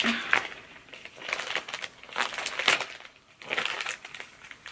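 Plastic packaging crinkles and rips in several short bursts, separated by brief pauses, close to the microphone.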